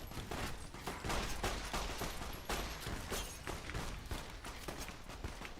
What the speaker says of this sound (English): Trudy, shoot him, Trudy.